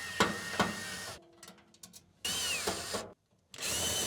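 A power drill backs out the screws holding the burner of a gas dryer during conversion to propane: three bursts of whirring close up, separated by short pauses and faint handling clicks.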